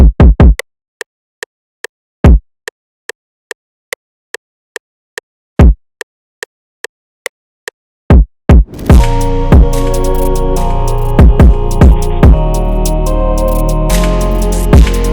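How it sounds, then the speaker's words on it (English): A drill beat: deep, booming kick hits land sparsely over fast ticking percussion, then sit inside a dense beat with heavy sustained bass. "Next up, we have the kick."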